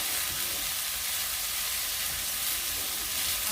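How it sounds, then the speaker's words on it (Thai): Coriander sizzles and stir-fries in hot oil for a chili-salt shrimp dish, a steady close, loud frying hiss with no pauses and no voices over it. "ผักชีผัดจนหอมแล้วกะ"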